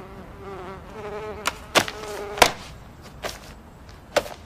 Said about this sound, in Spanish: Debo deshacerme de las avispas.